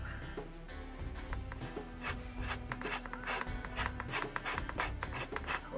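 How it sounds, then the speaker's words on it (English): A hose barb pushed into a flexible tube gives close, soft rubbing and squeaking friction sounds in irregular bursts, with small scrapes and handling noises throughout. "We put the hose barb in."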